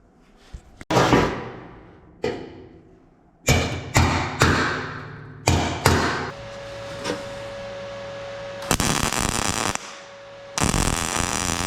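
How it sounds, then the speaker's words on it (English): Heavy hammer blows strike a metal panel on a 1962 VW Karmann Ghia chassis, about eight loud thuds at irregular intervals with brief ringing after some, close to the listener. "Now when I hammer this one down, it should stay in position"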